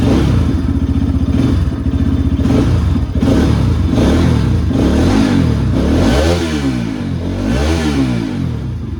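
A serviced RS motorcycle, nearly out of fuel, idles with a clattering engine and then revs in several loud, close throttle blips, each pitch sweep rising and dropping in turn.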